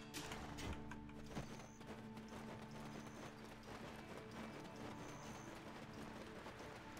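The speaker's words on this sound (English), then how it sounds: "Let me feed my horse again." A horse in the online game Black Desert Online, steady rhythmic clip-clop of hooves trotting at a moderate distance, continuing evenly beneath a faint mechanical game hum, with small chimes now and then.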